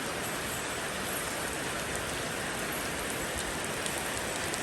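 Steady rain falling, a dense, even hiss of drops on surfaces that continues unbroken throughout.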